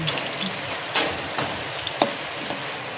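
Steady rain falling outside a cooking spot where turon is being fried, a continuous close hiss with a few sharper drips and taps scattered through.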